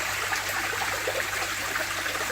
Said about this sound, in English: my waterfall there was blocked up this morning, so it's really trickling out